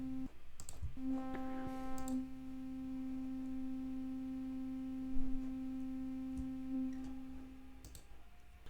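A steady, sustained synthesized sub bass tone made in the Vital synthesizer holds for several seconds, soft and even, with a few faint clicks scattered over it.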